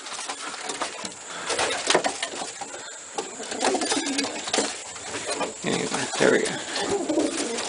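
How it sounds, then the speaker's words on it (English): Racing pigeons coo steadily in an aviary, a dense, continuous chorus of overlapping calls close by, with a brief spoken remark near the end. "now start letting pigeons out."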